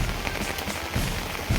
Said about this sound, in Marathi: तुम्ही बघू शकता पाऊस तर खूप पडतो आहे आपल्या इथे